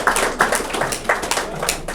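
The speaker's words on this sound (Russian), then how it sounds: "Поэтому кто-нибудь другой хлопайте" A small audience claps in scattered, uneven hand strikes at an ISKCON lecture, a few distinct claps spread over two seconds at moderate volume with no talk over them.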